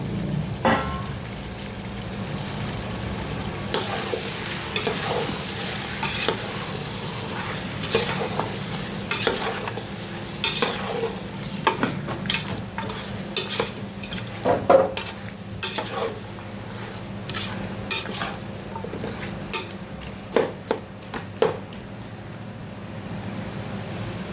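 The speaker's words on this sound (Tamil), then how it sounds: "இப்போ தக்காளி போட்டு 1 நிமிஷம் வதக்கி ஆயிடுச்சு" Tomatoes and green chillies sautéing in a pan for chicken dum biryani, with a steady sizzle under repeated scraping and clinking stirs of a spoon against the pan.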